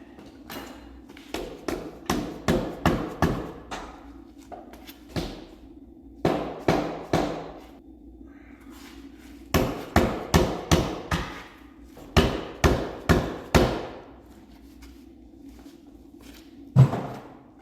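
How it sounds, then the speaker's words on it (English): Bursts of metallic hammer blows on parts of a 383 LT1 engine being disassembled, several quick strikes in each run, separated by pauses, ringing loudly and close. "If all else fails, hit it with a hammer."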